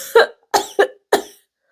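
Four short, dry, weak coughs come in quick uneven succession, close and clear against silence, with a brief pause before the last one.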